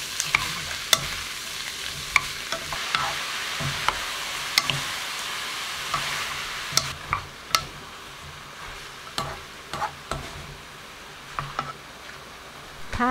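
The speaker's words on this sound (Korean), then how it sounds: "양파를 넣어 30초 볶고 버섯을 넣어 센 불로 볶고 3분 볶아주세요." Onion and oyster mushrooms stir-frying over high heat in a pan, with a constant close sizzle broken by frequent sharp taps and scrapes of a utensil against the pan.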